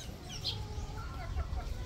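Rhode Island hen clucking softly in a farm poultry yard, a few brief clucks over a steady low background rumble, with faint chirps around.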